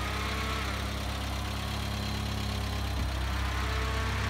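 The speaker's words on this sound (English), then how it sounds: "Got the engine running at the moment." A Talbot Express Harmony camper van's engine idles in a steady, close, low rumble, unchanging throughout with a faint thump near the end.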